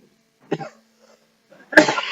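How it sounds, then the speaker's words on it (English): A man coughs twice, a short harsh cough followed after a pause by a louder, rougher one, close up with silence around them. "this cough is really killing me."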